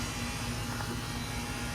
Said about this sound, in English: sorry for the noise from the air conditioner unit